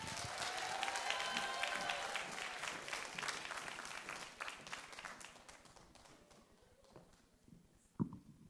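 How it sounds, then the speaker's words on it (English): An audience at a school talent show applauds with dense, steady clapping that gradually thins and fades, ending with a single sharp knock. "Please welcome her with a warm applause."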